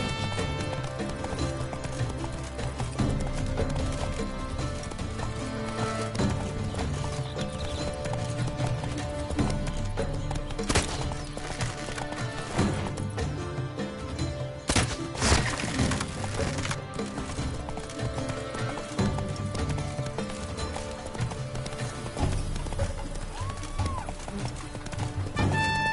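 Hooves gallop in a continuous rapid clip-clop from Roach, Geralt's horse in The Witcher 3, ridden hard through a game world. The hoofbeats sit under a game soundtrack with occasional snorts or a whinny.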